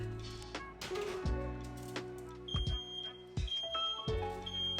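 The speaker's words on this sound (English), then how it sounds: "the smoke alarm always goes off with this recipe" A smoke alarm in an apartment kitchen goes off while saucy salmon cooks in a hot oven. Its repeated high, piercing beeps cut through clattering kitchen noise, fairly close and insistent through the second half.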